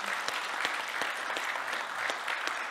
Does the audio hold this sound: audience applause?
yes